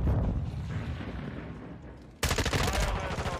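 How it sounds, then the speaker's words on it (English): A stun grenade goes off in the Modern Warfare 2 shooter game, with a sudden sharp burst partway through that cuts through ongoing rumbling gunfire and battle noise. "Stun grenade out!"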